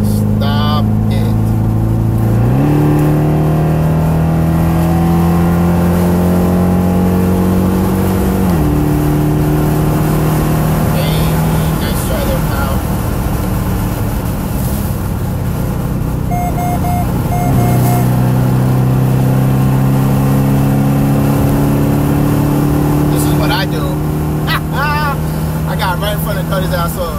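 A Nissan four-cylinder car engine revs hard, its pitch climbing in repeated surges with gear shifts between them, loud and close amid traffic noise.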